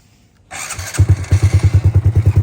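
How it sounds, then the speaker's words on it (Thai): A customized MSX SF motorcycle fires up after a brief silence, then settles into a strong, evenly pulsing idle thump, loud and close with no voices. "เดี๋ยวเรามาลองฟังเสียงเครื่องกันนะครับ"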